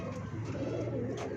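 Pigeons in a loft give low, throaty coos, close and continuous, over a steady background hum.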